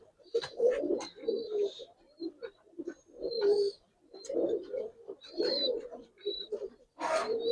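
Giribaz pigeons cooing nearby in repeated soft bursts with occasional chirps, while someone talks intermittently.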